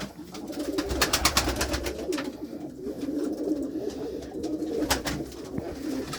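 Pigeons coo softly and steadily inside a pigeon coop, a low continuous murmur from several birds, with repeated wing flutters and scuffling nearby and no talking.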